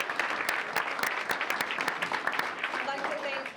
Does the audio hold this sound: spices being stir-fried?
no